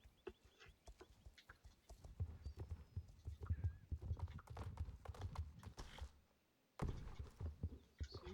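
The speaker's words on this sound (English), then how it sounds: "So many pretty horses." Horse hooves clip-clop in an irregular, close rhythm in the video game Star Stable Online, with a brief pause before the steps resume; faint voice murmurs underneath.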